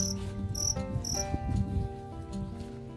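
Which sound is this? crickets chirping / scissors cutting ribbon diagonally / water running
crickets chirping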